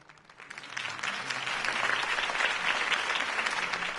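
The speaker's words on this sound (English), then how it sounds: "If only Mr. Wayne, my campaign's largest backer, could have heard that applause" Crowd applauding after a campaign speech in Batman: The Telltale Series, a dense, steady wash of clapping that swells after a quiet start and holds loud for several seconds.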